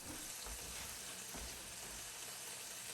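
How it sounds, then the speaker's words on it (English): Bacon sizzling in a frying pan, a faint, steady hissing crackle with a few soft pops throughout. "sit back, and listen to the sizzle."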